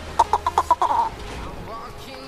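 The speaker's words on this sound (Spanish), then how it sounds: "Y ahora la puta gallina." Rapid burst of chicken clucks from a hen in the Fortnite video game, five or six sharp calls in quick succession up close, then fading into background game noise.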